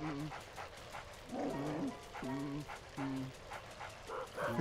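A dog barking in Luigi's Mansion, several short bright game-sound barks and yips repeating in an uneven rhythm, moderately loud with faint background music.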